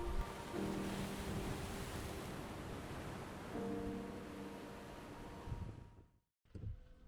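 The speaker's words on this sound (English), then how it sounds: "And you can see the power of the sea as well." Atlantic sea waves crash and surge against the rugged West Cork coast in a broad, steady roar with a faint engine-like hum underneath, fading out abruptly near the end before a brief gust returns.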